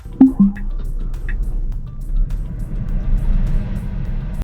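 A Tesla car drives itself through a parking lot under Smart Summon, heard as a low, steady rolling rumble with a few brief beeps at the start, close and fairly loud.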